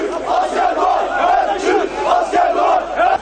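A crowd of AK party supporters cheers loudly and continuously in Istanbul as coup soldiers surrender, a dense roar of many voices with rising and falling shouts.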